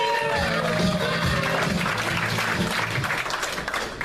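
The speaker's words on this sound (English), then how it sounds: "Make some noise for Cooter. Let him hear it." Comedy club audience applauds and cheers on a Saturday night, a loud, dense burst of clapping with whoops that holds steady before tapering off near the end.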